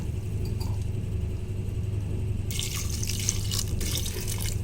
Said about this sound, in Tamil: நம்ம வந்து இது மூழ்கிற அளவுக்கு தண்ணி விட்டுக்கலாம்